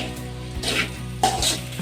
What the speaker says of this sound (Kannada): ಹಾಗೆ ಕೂಡ ಸ್ವಲ್ಪ ಕೊತ್ತಂಬರಿ ಸೊಪ್ಪನ್ನು ಹಾಕ್ಕೊಂಡು ಎಲ್ಲನೂ ಸೇರಿಸಿ ಮಿಕ್ಸ್ ಮಾಡಬೇಕು ಚೆನ್ನಾಗಿ